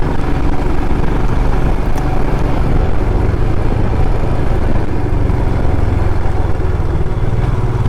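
A motorcycle rides along twisting Himalayan mountain roads, its engine and wind noise forming a loud, unbroken roar throughout.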